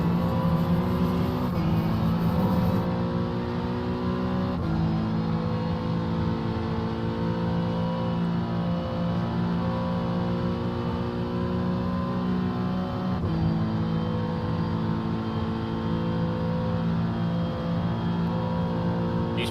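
GT3 race cars from iRacing at Watkins Glen, with a Corvette, BMW and LMP prototype mixed in, roar continuously through the gears, steady and loud with brief shift dips and engine tones overlapping as cars pass.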